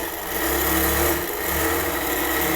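Sewing machine stitching quilting lines across a double-sided T-shirt quilt, a steady close mechanical whir with slight rises and dips in speed, running alone without talk.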